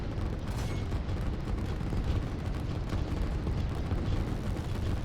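Artillery fire rumbles in a strategy video game battle where artillery targets grouped units, a dense continuous low roar of overlapping booms and blasts, loud and steady with no talking.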